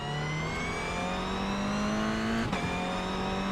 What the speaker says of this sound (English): I love the way this car sounds already.